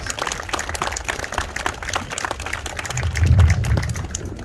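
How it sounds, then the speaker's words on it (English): Audience applause at a ribbon cutting for the TF Cornerstone towers, a steady patter of clapping from a moderate crowd that swells briefly toward the end, heard without speech. "That deserves a round of applause."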